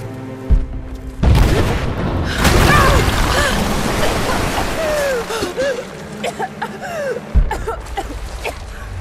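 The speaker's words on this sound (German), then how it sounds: "Sie sprengen sich den Weg frei." In the Rise of the Tomb Raider video game, a blast clears a path: deep booming explosion hits land at the start and again near the end, with rumbling debris, splashing and whistling effects in between.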